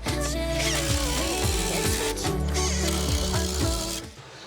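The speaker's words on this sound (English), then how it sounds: "I'm gonna drill in these pocket ones" Power drill boring pocket holes in reclaimed old wood trim, a loud close whir with rising and falling motor pitch through repeated bursts, stopping near the end.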